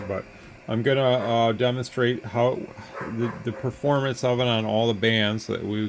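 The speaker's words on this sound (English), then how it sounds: "I apologize for the dogs barking." Dogs barking in the background of a ham radio demonstration of an Icom IC-7300 transceiver, faint and intermittent beneath someone talking steadily close to the microphone.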